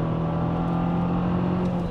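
A BMW 545i E61 estate with a V8 engine accelerates, its exhaust flap open, giving a steady, close engine drone and growl that holds at an even level with no talk.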